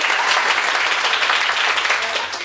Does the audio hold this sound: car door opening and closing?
no